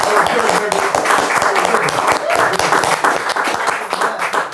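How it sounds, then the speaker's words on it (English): Audience clapping and cheering in a podcast studio during a hip-hop interview, steady dense applause lasting several seconds with some voices mixed in. "Let's clap it up for that, man."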